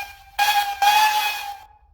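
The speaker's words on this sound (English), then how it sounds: "3 blasts on the whistle for reverse" A steam locomotive whistle sounds reverse: two loud, close, steady tonal blasts are heard, the second longer and held before fading, with no talk.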